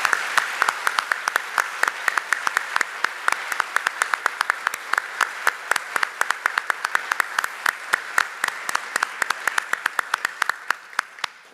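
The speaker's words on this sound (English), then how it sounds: "I didn't even have to ask for a round of applause" An audience at a district area board and town hall meeting gives a long, steady round of applause, many hands clapping in a dense, even patter that holds at a constant level for over ten seconds.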